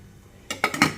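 A metal lid clanks down onto a pot of boiling banana water for mango fertilizer, three quick, close metallic clinks after a moment of quiet.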